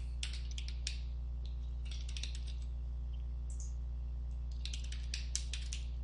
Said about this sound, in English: I'm just typing in any address, to be honest.